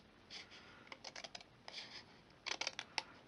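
Card stock is trimmed during paper crafting, heard as quiet, close, quick bursts of cutting and scraping in short clusters against a near-silent background.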